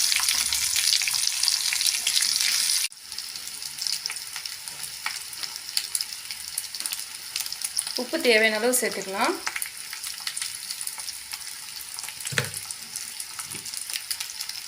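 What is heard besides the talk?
raw banana slices frying in pan on medium flame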